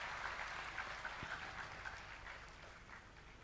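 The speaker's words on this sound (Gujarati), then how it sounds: "બધાને તાળીથી વધાવીએ જરા." Devotees at a Guru Purnima Swaminarayan katha gathering in Tirthdham Godhar clap together in a faint, distant, steady round of applause that tapers slightly toward the end.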